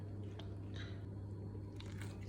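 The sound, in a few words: focaccia dough being mixed and kneaded by hand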